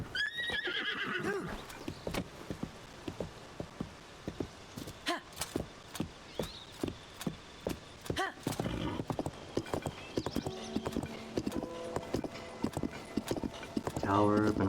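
Video-game horse clip-clopping at a steady walking pace with repeated sharp hoof strikes, broken by a loud whinny at the start and another neigh near the end, with a person talking over it at times.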